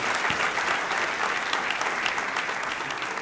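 A church congregation applauds during a French-language sermon, broad sustained clapping from a crowd at moderate distance, even and continuous without speech.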